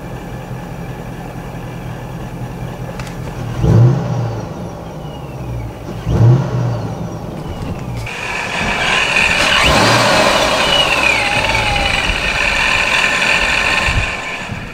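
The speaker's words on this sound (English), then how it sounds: "hopefully you guys get a better idea of what that grinding on the ProCharger sounds like" A car's ProCharger supercharger running under the hood with a grinding noise, a steady engine hum with two brief louder surges early on, then a denser, harsher whine-like roar for the last several seconds, heard close with no talking.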